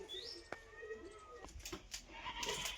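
Goats at a rural home bleat faintly in short, scattered calls, mixed with bird chirps and a few soft knocks in the background.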